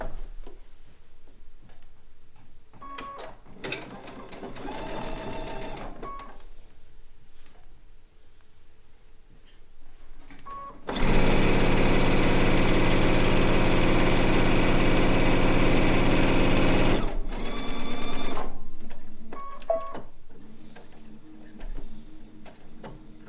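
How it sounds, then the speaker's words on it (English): A sewing machine stitches a quilt strip in one loud, steady burst of whirring lasting about six seconds, close up, framed by quieter handling clicks before and after. "Then we'll sew another strip to this side of the blue."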